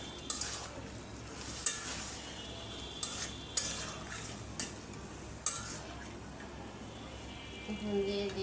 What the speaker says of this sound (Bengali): এখন মাছের মধ্যে আমি সবজিগুলো দিয়ে দিব